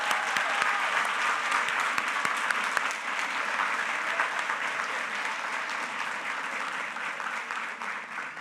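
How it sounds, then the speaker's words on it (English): A crowded school board meeting room bursts into sustained, even applause that stays loud and dense from start to finish, with no voices breaking through. "Give yourselves another round of applause."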